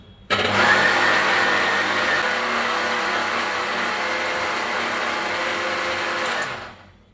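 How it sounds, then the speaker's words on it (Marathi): A mixer grinder grinding lentils whirs loudly at high speed for several seconds, then winds down to a stop. "त्यानंतर मिक्सर हाय स्पीडवर करून अशा पद्धतीने आपल्याला हे वाटून घ्यायचे"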